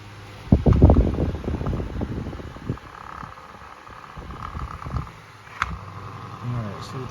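A 2002 Holmes HAOF720 desk fan runs nearby with a faulty rattle, giving a low churning hum with uneven rumbling bursts, strongest in the first second and recurring faintly later.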